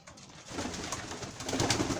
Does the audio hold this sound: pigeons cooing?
yes